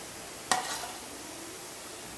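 Coriander and cumin spices fry in a pan as a utensil scrapes once sharply, followed by a faint, steady sizzle.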